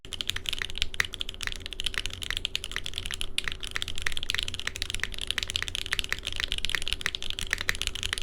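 Rapid, steady typing on a 910 VKC mechanical keyboard with a brass weight, close up, with dense, even keystroke clicks and no voices.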